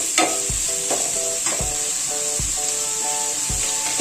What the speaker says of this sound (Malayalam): അത് നല്ലപോലെ ഇളക്കി അത് നമുക്ക് വഴറ്റി കൊണ്ടുവരണം.